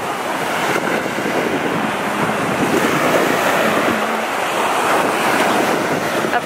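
Ocean waves wash steadily onto a beach, a loud continuous roar of surf mixed with heavy wind buffeting across the microphone throughout.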